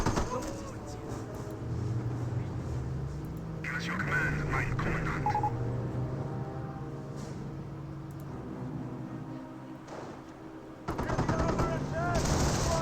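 Greyhound armored car firing shots at Volksgrenadier infantry in the World War II strategy game Company of Heroes, a few sharp gunfire bursts amid battlefield noise while a commentator talks throughout.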